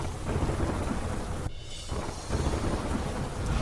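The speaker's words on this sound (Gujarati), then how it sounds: "નાળાબેટમાં ધોધમાર વરસાદ" Heavy monsoon downpour at Nalabet in Banaskantha on the India–Pakistan border, a dense steady roar of rain with thunder rumbling through it and a brief lull midway, no voices.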